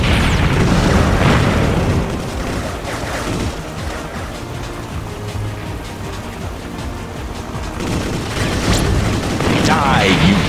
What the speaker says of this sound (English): Jeez, look at those explosions!